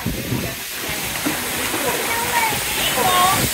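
Steady rushing hiss of water pouring in a toddler waterfall splash pool aboard the Disney Wish cruise ship, loud and continuous, with faint voices and squeals underneath.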